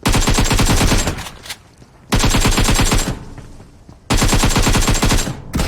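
Gunfire in PUBG Mobile: three loud, close bursts of rapid automatic fire, each lasting about a second and a half, separated by short gaps of fading echo.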